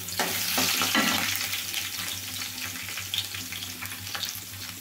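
Dried red chillies and crushed garlic fry in hot oil, crackling and sizzling loudly and continuously with scattered sharp pops and bits of stirring, close up and with no talking.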